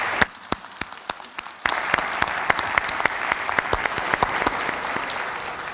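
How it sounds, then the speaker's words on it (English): An audience at a community listening session applauds the Army team, starting with a few sharp, separate claps that quickly build into steady, full applause punctuated by louder individual claps. "I wanted to ask you all for a round of applause for our Army team"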